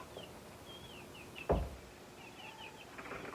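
Young birds in a garage brooder give faint, thin chirps scattered throughout, with a single sharp knock near the middle and low background hum.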